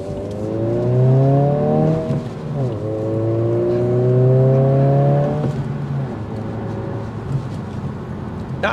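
A 2023 Honda Civic Si in sport mode accelerating from inside the cabin, engine note climbing through gears with a rising whine, dropping at each shift and climbing again, fairly loud and steady with no talk.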